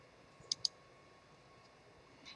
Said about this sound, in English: You can turn your classes on and off by clicking the card next to the course name.